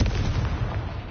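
A Confringo fire spell explosion in Hogwarts Legacy, a heavy, close, booming rumble with gritty crackle that runs through the whole short moment.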